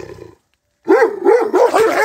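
A Central Asian shepherd dog gives a short sound, falls silent briefly, then lets out a series of loud, close barks and yelping cries in quick succession.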